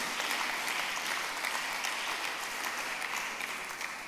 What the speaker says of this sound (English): Let's give her a round of applause as she comes forward.